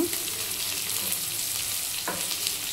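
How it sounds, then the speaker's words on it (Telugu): Onions with cumin, mustard seeds, dried red chillies, curry leaves and asafoetida frying in hot oil as a tempering, giving a dense, loud, continuous sizzle with one brief knock of a utensil near the end. "అన్నీ వేసుకొని ఆనియన్స్ కొద్దిగా కలర్ చేంజ్ అయ్యే వరకు ఫ్రై చేసుకొని"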